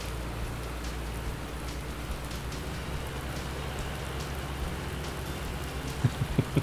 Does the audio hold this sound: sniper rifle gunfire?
no